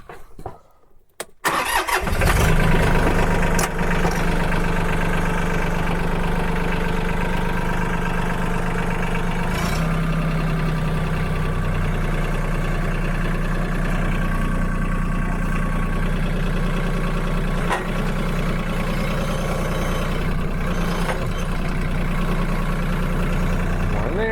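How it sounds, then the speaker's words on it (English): A farm tractor engine cranks and catches after a brief start, then runs steadily at a loud, close, rumbling idle while the tractor backs up, with occasional clunks and faint voice underneath. "All right, so I'm gonna back the tractor up."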